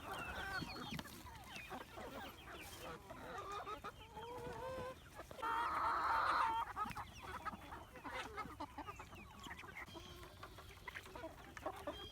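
Egg-laying hens on pasture near a mobile coop cluck and chatter at close range, with one louder squawking burst in the middle, over a quiet outdoor morning background.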